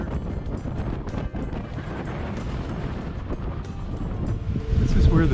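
Strong wind buffets the microphone outdoors at Icy Strait Point, Alaska, near the end of a zip line, a steady loud roar with gusty rumble that swells louder in the final second.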